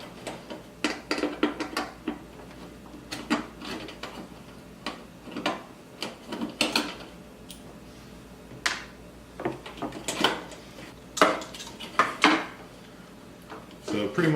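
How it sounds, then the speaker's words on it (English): Sharp metallic clanks, ticks and rattles come from the metal housing of a fluorescent light fixture as its ballast is pried and torn out during an LED upgrade. The knocks are irregular and close, with quieter handling between them. "That right there's your ballast. That's the thing that goes out in these and then everyone throws them away. So we'll go ahead and rip it out"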